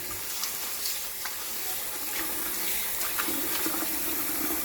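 Goat meat for Jamaican curried goat rinsed under a running kitchen tap, a steady close splash and trickle of water into a sink with faint handling noises throughout.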